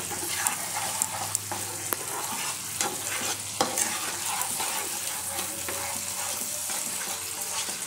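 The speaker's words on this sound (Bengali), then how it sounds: "এটা এখন আমি খুব ভালো করে কষিয়ে নিব।" A mixture of vinegar with soy, chilli and tomato sauces stirred and fried in a pan for a village-style dish, with a continuous hiss and sputter and occasional sharp scrapes of the spoon.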